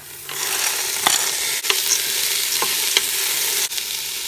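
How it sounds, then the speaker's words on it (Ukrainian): Steady, hissing sizzle of onion frying in a pot, close by, with occasional clinks and scrapes of stirring. "Поки смажиться цибуля"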